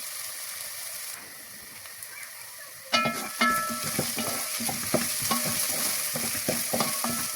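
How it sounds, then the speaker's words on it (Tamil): Onions sizzling in a hot pan after a quiet start, with a loud burst of frying followed by steady hissing and occasional stirring scrapes. "நல்லா மிக்ஸ் பண்ண வேணும் வதங்கட்டும்"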